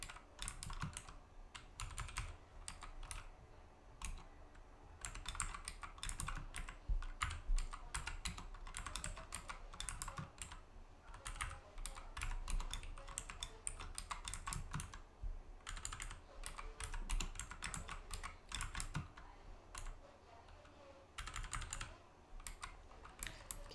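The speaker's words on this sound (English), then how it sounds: "Just a bit of time passed while I'm still typing." Steady typing on a computer keyboard during a programming lab session, with dense, continuous key clicks close by and no talking.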